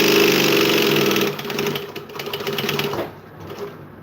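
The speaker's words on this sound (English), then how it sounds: "we're gonna back stitch slowly, because we all know that my machines have an issue with me and back stitching" A sewing machine back stitching slowly runs loud and close, its steady mechanical whir dropping and pulsing a little as the speed eases off near the end.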